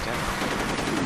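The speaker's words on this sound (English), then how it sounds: "You shoot them, turret! You shoot them!" Rapid automatic fire from a deployable turret in the shooter game F.E.A.R. Extraction Point, a dense continuous burst of gunshots, loud and close, with a voice speaking over it.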